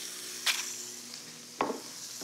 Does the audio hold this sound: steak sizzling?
yes